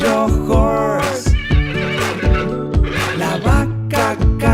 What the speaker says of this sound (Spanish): Y el caballo horse